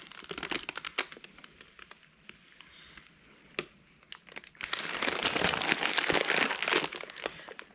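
Paper backing peeled slowly off a carpet tile, giving scattered crinkly ticks and tears that grow into a louder, continuous ripping crackle in the second half, close and with no talk.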